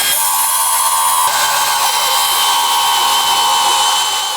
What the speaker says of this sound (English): So he decides to pull out the big guns and handheld bandsaw.